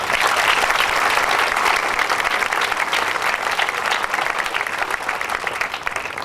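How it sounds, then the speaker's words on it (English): An audience applauds at a ceremony closing a high school campus, thick sustained clapping from a crowded room that stays strong for several seconds and eases slightly toward the end. "Let's give her a round of applause."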